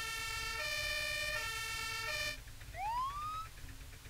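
A US ambulance siren in the video game Brick Rigs, a loud steady multi-tone electronic wail that cuts off and switches to a rising yelp sweep, alone with a low engine hum beneath.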